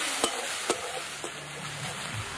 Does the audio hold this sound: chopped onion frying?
yes